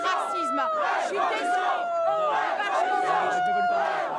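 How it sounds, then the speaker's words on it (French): Crowd at a radical far-right rally jeering and booing a woman, a loud continuous roar of many shouting voices without pause. "Huée par la foule"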